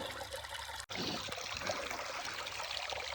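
Creek water trickles and burbles steadily through hilly terrain, a faint, continuous outdoor flow with a brief dropout near the start, no voices.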